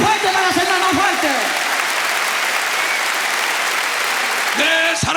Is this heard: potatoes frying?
no